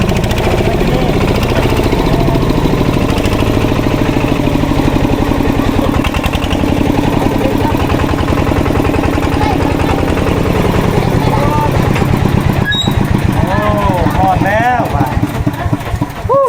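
A farm tractor engine runs steadily in a village in southern Laos during rain, a loud, rough mid-pitched drone with knocking pulses throughout while people talk nearby.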